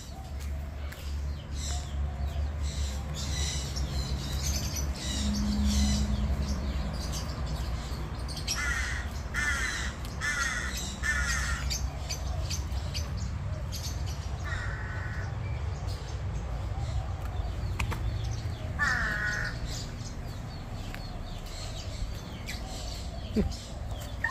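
Lovebirds and other birds call from an aviary beside a coffee place in Hua Hin, a steady chorus of chirps and squawks with repeated bursts, mixed with background chatter and people talking nearby.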